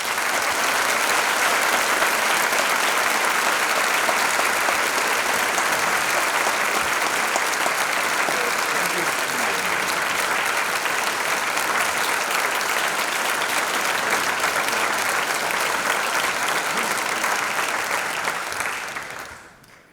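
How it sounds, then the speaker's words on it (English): Warm, dense applause from a large audience for speakers at a lecture event, a continuous roar of clapping at full strength for nearly twenty seconds before fading out. "I do urge you to join me, please, in a warm round of applause for our speakers"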